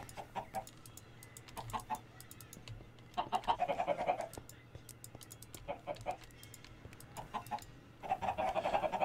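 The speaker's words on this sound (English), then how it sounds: "I think I need to work on chickens." Minecraft chickens cluck in repeated short bursts, several groups of quick clucks separated by pauses, fairly near and clear over a low background hum.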